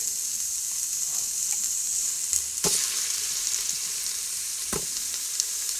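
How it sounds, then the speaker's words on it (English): Pork meat fries in a little vegetable oil inside an Instant Pot, a steady close hiss and sizzle with a couple of sharp knocks from the utensil and pot. "I just added a little vegetable oil in there, and I'm just gonna add some of the meat here"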